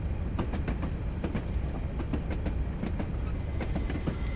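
A Train Simulator locomotive rolls along the West Highland Line with a dense continuous rumble and regular clickety-clack wheel beats over rail joints, close and loud with no voices.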